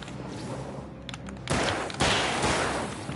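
Gunfire in the video game Alan Wake Remastered during a horde fight: loud, dense shots over a constant noisy backdrop, with two sharp heavy blasts close together.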